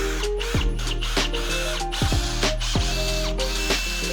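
A power drill on its lowest speed and power setting slowly drives a screw to mount smart roller blinds, giving steady mechanical whirring with brief ratcheting bursts under a constant low hum.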